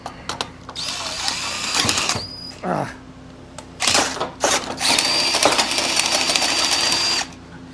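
Bursts of a power drill whining and grinding through material with a 3/4 inch bit during truck frame work, stopping and starting several times, with voices speaking between the runs.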